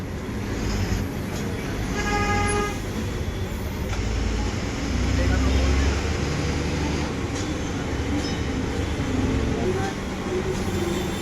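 A Maharashtra State Road Transport Corporation Ashok Leyland BS6 Lal Pari bus travels toward the Kurla Nehru Nagar bus stand, giving a steady engine rumble and road noise from inside the cabin, with a brief horn toot near the start.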